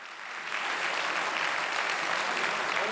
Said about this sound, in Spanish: Shinzo Abe recibió un fuerte aplauso de los legisladores cuando acudió a votar.